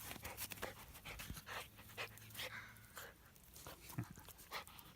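Small scruffy mongrel dog panting close by, quick rhythmic breathy huffs repeating steadily, fairly quiet with a faint whimper.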